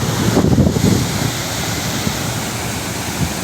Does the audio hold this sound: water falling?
yes